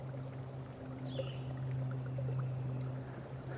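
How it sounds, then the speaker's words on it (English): Steady, gentle trickling water runs continuously under a low, constant hum, with no voices present. "So you hear the little water there trickling?"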